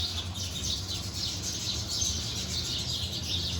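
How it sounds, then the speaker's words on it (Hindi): Small birds chirp and tweet continuously outdoors, a high, fairly steady twittering over a low background rumble, with no talking. "ये देखें, ये रही चिड़ियाँ"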